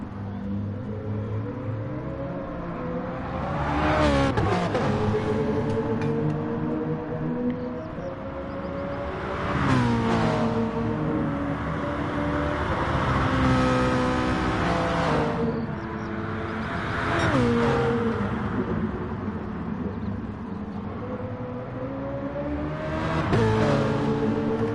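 Race cars lap Interlagos in a racing video game, engines rising and falling in pitch as they rev through gears and pass by, with several loud sweeping surges spread across the stretch and no talk.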